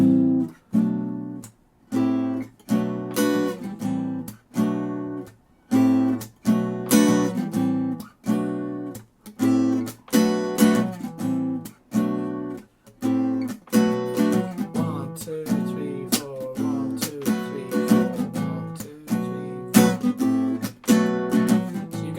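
A guitar riff played with steady rhythmic strumming, chords punched out in short bursts with brief gaps, repeating for over twenty seconds without any talking.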